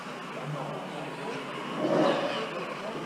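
A stock Tamiya TT-02 RC car driving on a track, giving a faint, steady electric motor whine that swells briefly as it accelerates, with no talk over it.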